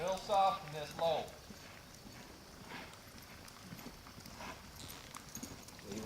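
A horse lopes with soft, rhythmic hoofbeats that sound faint and somewhat distant, under the low murmur of a voice.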